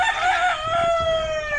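Pet chickens in a backyard coop give a short, loud rooster-like crow, close and alone.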